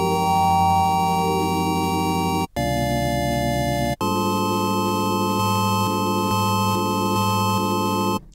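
A sustained synthesizer tone from Massive, with resonance turned up and bandwidth turned down, giving a bright, resonant edge; it holds steady, briefly cutting out twice as the pitch shifts, with a subtle pulsing in the lower notes.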